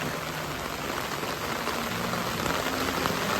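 Dense, steady downpour drumming on surfaces, a loud continuous hiss of heavy rain with no voices throughout.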